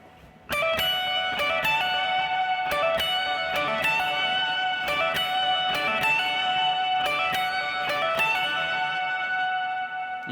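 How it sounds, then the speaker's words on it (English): Lead electric guitar lick from a worship song, played at full speed: crisp plucked notes in a quick, repeating melodic phrase with ringing sustain, close and alone with no voices. "the lead guitar goes something like this"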